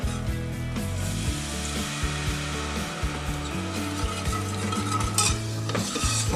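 A whisk stirs milk into a thickening béchamel for spinach lasagna, a steady close scraping and swishing against the pan that runs continuously with faint sizzle and no talking.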